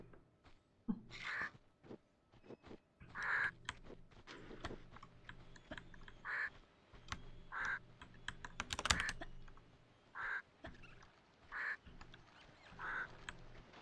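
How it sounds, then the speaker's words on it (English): Keys clatter on a computer keyboard during a Tomb Raider II Golden Mask speedrun, quick close bursts of clicks between short pauses, with louder periodic thuds from the game. "Keyboard."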